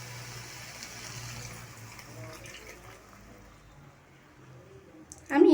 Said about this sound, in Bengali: চিংড়ি মাছটা ভালোভাবে নাড়াচাড়া করে নিয়ে আমি এর মধ্যে মিশিয়ে দেব বাটিতে রাখা দুধ